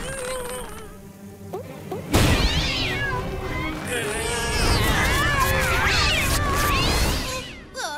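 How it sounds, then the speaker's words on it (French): Cats meowing and wailing in a French-dubbed cartoon, a cluster of high, bending cries layered over each other after a short quieter stretch, fairly loud and continuous for several seconds. "Ça va attirer les chats du quartier."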